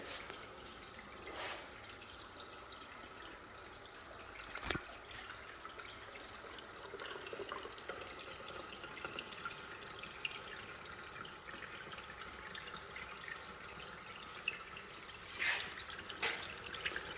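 Water fills charcoal filter canisters with a faint, steady trickle and occasional sharper drips.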